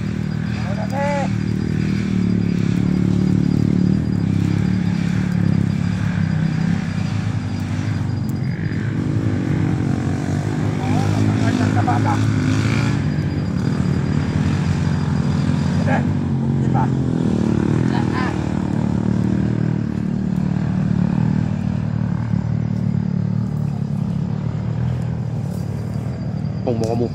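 Motorcycles run along a road, their engines a steady rumbling drone that swells and fades as they pass, with voices talking over the noise throughout.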